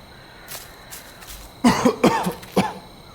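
A few soft throat sounds give way to a burst of several harsh, close coughs in quick succession, in the game The Cursed Forest.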